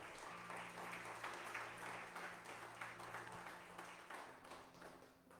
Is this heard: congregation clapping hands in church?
yes